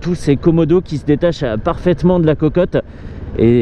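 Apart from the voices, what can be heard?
No everyday noise stands out behind the speech.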